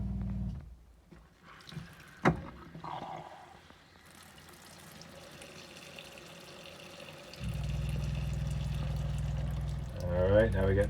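Pink antifreeze runs from a tap and shower in a 1973 GMC motorhome being winterized. A faint trickle and a sharp knock come first, then a steady, louder gushing stream near the end.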